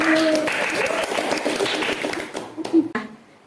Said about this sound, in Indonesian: Boleh dong kita kasih tepuk tangan kecil dulu.